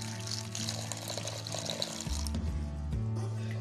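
Water poured onto jaggery in a cooking pan for a sweet poli syrup, a steady splashing pour that runs for a couple of seconds, close and clear, before the flow thins out.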